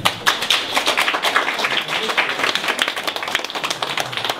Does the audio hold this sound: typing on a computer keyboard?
no